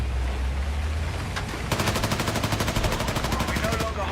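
Gunfire in Battlefield: a steady rapid burst of automatic shots hammering out in a fast even rhythm, loud and close, with a low vehicle rumble underneath.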